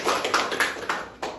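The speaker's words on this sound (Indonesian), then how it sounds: "Tepuk tangan untuk semua." A classroom group claps briefly in a short burst of close, uneven hand claps, with several sharp accents rising above a steady patter.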